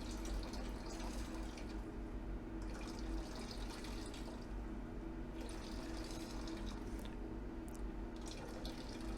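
Rinse water from a silver crystal harvest pours steadily into a waste jar, a continuous close splashing trickle at low level.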